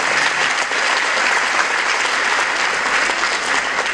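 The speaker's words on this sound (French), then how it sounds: "ces applaudissements, c'est pour vous" Loud, dense audience applause fills a hall at a Ramadan charity seminar in Bejaia, steady and sustained throughout, with many hands clapping at once and no clear voices above it.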